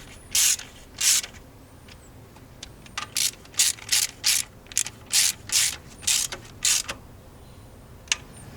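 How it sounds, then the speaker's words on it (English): Ratchet tightening alternator mounting bolts, a series of about a dozen short, crisp clicking bursts in an uneven rhythm, close and distinct against a quiet background. "Now with all 3 bolts hand tightened and threaded in, we could start tightening them down."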